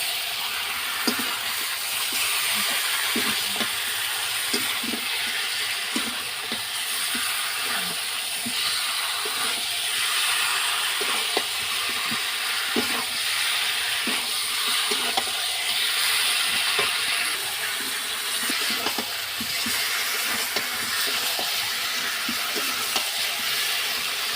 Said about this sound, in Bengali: দিয়ে ভালোভাবে কষাবো একসাথে, তাহলে আলুটাও সিদ্ধ হয়ে যাবে আর মাংসটাও সিদ্ধ হয়ে যাবে।